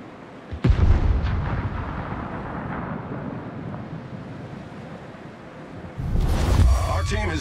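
Warship guns fire in World of Warships, a sharp blast followed by a long rumbling roll of distant booms, then a second heavy volley near the end, loud against wind-like background noise.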